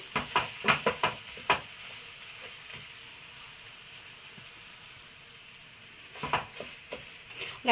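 Cooked black bananas are mashed with a utensil, giving quick bursts of soft squelching taps and scrapes at the start and again near the end, with a quieter stretch of faint background noise between.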